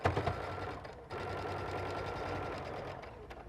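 A sewing machine stitches a seam on a button-out lining, running in a steady, close mechanical whir with a brief pause near the start, then continuing evenly to the end.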